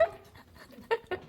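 A dog pants and gives short whimpers nearby while food is being prepared, quiet breathy bursts with brief whiny cries, no talking.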